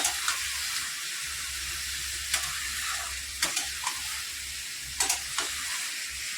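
Mutton seasoned with meat masala and Kashmiri red chilli sizzles steadily in a pot as it releases its juices, a constant close hiss broken by a few sharp scrapes and clicks of stirring.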